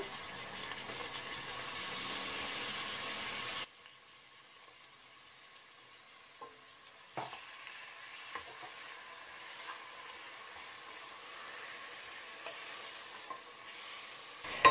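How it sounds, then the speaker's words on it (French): Onion fries in a pan for a meatless red sauce, a loud steady sizzle that drops sharply after a few seconds into a quieter crackle with occasional utensil clicks. "Je vais laisser revenir jusqu'à ce que l'oignon devienne translucide"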